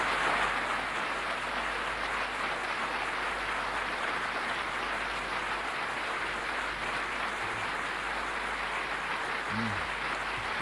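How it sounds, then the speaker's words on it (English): Steady broadband clapping from an audience at a Royal Gold Medal architecture presentation, sustained and fairly even throughout, with faint voices murmuring underneath. "May I have your applause for her?"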